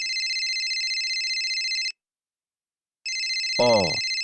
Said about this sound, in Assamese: এখেতে আকৌ কিয় ফোন কৰিলে?